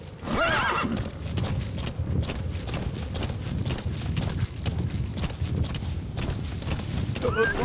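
A horse in the video game Metal Gear Solid V: The Phantom Pain gives a loud neigh at the start, then hooves clip-clop steadily at a trot, close and continuous over game ambience.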